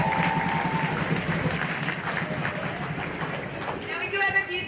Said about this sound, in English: Give a round of applause for Nike!